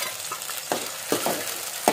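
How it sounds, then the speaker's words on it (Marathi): Tomatoes tossed into onions frying in a pan for a ridge gourd sambar, giving a low sizzle broken by several sharp scrapes of stirring at uneven intervals. "आता टोमॅटो टाकूया."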